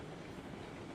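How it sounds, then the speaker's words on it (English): Train riding in the Railroad Online video game, a steady rumbling rail roll with a faint clickety-clack of wheels, continuous and even throughout. "I'm riding this train like a true brakeman would"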